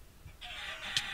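Chickens cluck in a Minecraft PvP match, a thin, close, steady clucking call with a sharp brief accent near the end, over a low background.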